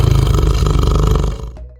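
Tiger roaring, a single loud, deep, rumbling roar held for over a second, close and dominant before cutting off sharply.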